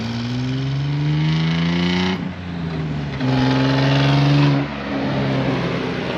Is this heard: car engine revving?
yes